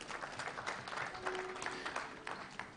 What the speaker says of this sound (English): let's give a very huge round of applause to Mrisho Mpoto.